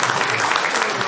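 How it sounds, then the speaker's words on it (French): Brief burst of audience applause at a mayor's New Year reception in Murat-le-Quaire, dense steady clapping from a room of people heard close and alone. "je voudrais qu'on applaudisse nos époux et épouses qui nous supportent"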